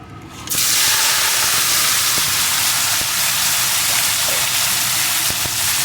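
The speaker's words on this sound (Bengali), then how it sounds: "ভালো করে গরম হয়ে যাওয়ার পর আমি ম্যারিনেট করা চিংড়ি মাছগুলো এর ভিতরে দিয়ে দিই" Marinated prawns dropped into hot oil, erupting into a loud, dense sizzle that holds steady, with faint clicks of movement in the pan and no talking.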